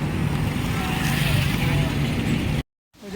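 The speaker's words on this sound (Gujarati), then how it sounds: "ચલો આપણે હવે ટ્રેક્ટરમાં બેસી જઈએ" A tractor engine runs with a loud, continuous rumble mixed with wind buffeting, holding steady before abruptly cutting to silence near the end.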